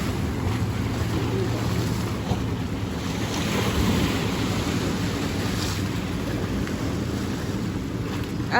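Water taxi boat crossing Lake Como between villages, a steady loud rumble of engine, wind and rushing water that continues without a break throughout.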